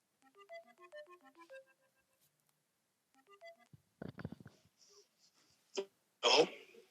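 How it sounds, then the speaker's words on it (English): Playful Snapchat call ringtone: two short runs of bright melodic beeps, then sneeze-like noises and sharp bursts toward the end, fairly quiet, with no talking. "Fun little ringtone."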